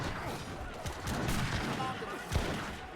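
Battle din from Age of Empires 3 with musket volleys and artillery booms, crackling gunfire spread across the mix and a sharp heavy blast near the end, while someone commentates over it.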